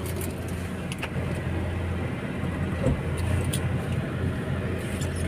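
Steady road traffic from a jammed road near Taman Mini Indonesia Indah in Jakarta on the second day of Lebaran, a continuous low rumble of cars and engines with occasional passing vehicles, no talking.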